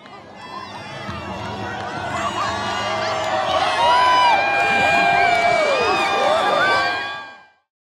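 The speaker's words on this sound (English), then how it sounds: "Just listen to this crowd reacting to a total eclipse." A large crowd reacting to a total solar eclipse cheers, whoops and shouts excitedly, voices overlapping and swelling into loud, sustained cries before fading out.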